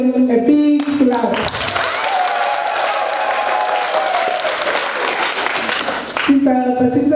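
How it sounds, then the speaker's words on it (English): An audience at a school award ceremony claps for staff members of a center, a sustained wash of applause that swells and then gives way as a speaker's amplified voice returns at the start and end. "So let's give them a big clap."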